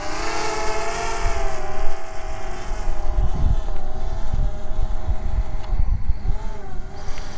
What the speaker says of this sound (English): maybe not that high because it's really windy